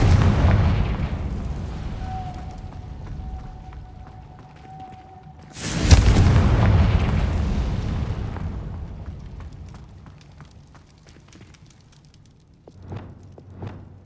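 A Confringo spell goes off in the Hogwarts Legacy video game with a sudden loud blast, then a rumbling, roaring tail that slowly fades. A fainter second burst comes near the end.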